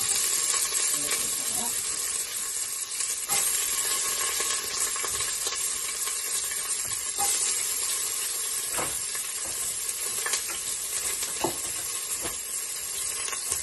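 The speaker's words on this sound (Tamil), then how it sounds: "நல்லா வெங்காயம் வதங்கி வரணும்" Sliced onion sautéing in a pan with cinnamon and cloves for vegetable kurma: a steady, close sizzle with intermittent scraping and clicking of a stirring spoon over about fourteen seconds, no talking.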